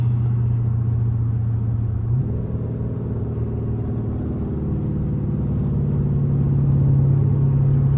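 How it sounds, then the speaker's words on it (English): A V8 car engine rumbles steadily from inside the cabin while driving, a constant low drone with a slight pitch shift partway through as the engine note changes, no speech. "Can't go wrong with a V8"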